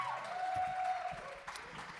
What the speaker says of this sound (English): And let's give her a big round of applause.